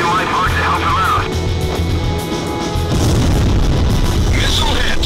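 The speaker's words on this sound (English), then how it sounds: "Missile hit." A missile strike explodes in an Ace Combat flight game, a deep booming blast set against steady jet-engine roar, with a voice talking over it.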